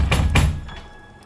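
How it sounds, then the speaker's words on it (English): Heavy pounding on a door: two loud, muffled thuds in quick succession followed by a fainter third. "3 more pounds at the door."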